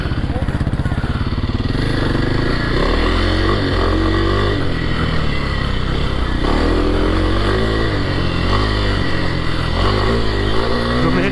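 Kawasaki KLX 300R motorcycle being ridden, its single engine droning loud and close with a steady buzzing note that rises and falls through repeated throttle changes.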